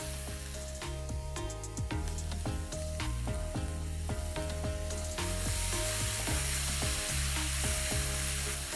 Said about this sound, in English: Mix all of this together, stir it for a little while, and let's add in the chopped tomatoes.